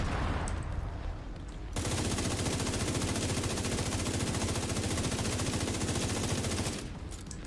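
A single loud, rapid burst of automatic gunfire in The Division 2 runs nearly five seconds without pause, like a whole magazine being emptied, with quieter ambience before and after.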